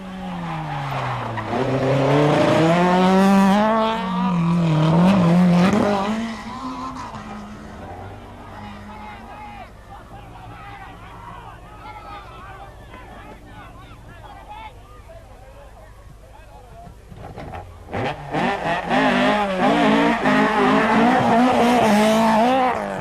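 A rally car at a 1995 Donegal rally, its engine revving loudly with rising and falling pitch, then fading to a quieter stretch before roaring back in a hard burst of acceleration. Voices are heard faintly underneath.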